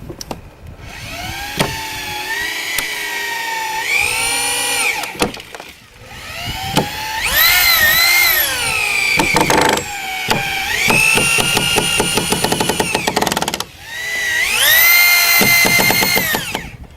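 Power drill driving 3-inch screws into wooden cross support studs of a skateboard halfpipe, several loud close bursts of whining motor that rise in pitch and then stop, separated by short pauses and clicks.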